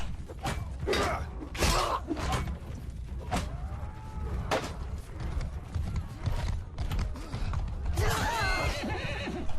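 A horse neighs amid clattering hooves, clanks and sharp impacts in a busy, noisy Mount and Blade 2 Bannerlord battle scene.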